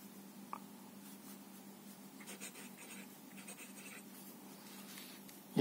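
Staedtler Initium Metallum fountain pen with emerald green ink scratching faintly across paper in close, quiet strokes over a low steady hum, ending with a soft louder tap.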